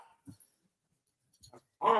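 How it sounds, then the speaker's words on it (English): Two mixed-breed dogs playing, with a soft low yip or whimper early, a couple of brief muffled sounds, then a sharp loud bark at the end against otherwise quiet background. "what's going on over the barking and playing of these two mutts."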